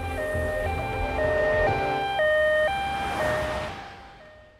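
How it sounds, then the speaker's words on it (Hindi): An ambulance siren wails loud and near in a Hindi thriller film scene, stepping between high and low tones in a two-tone pattern before fading away at the end, with no speech over it. "Ajay, call N ambulance quickly."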